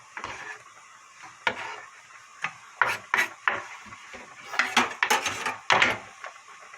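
Octopus with sliced onion, carrot and chili stir-fried in a pan, giving a run of close, irregular metal-on-metal clanks and scrapes from a utensil against the pan, building to clusters of sharp hits near the end, with no talk.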